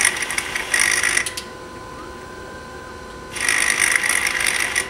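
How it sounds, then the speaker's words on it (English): Discrete analyzer pump in a lab sucking out wastewater during flushes: two bursts of harsh, hissing-rattling suction, one in the first second and another from about 3.3 seconds on, with a quieter mechanical hum between. "That sucking sound is a pump. Sucking out the wastewater."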